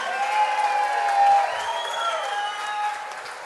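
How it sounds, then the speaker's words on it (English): Audience applauding a chef at a Hot Chef's Challenge cooking demonstration at the Falmouth Oyster Festival, steady dense clapping from a crowd with a few whoops, sustained throughout with faint voices mixed in. "So, round of applause, please, for Nick."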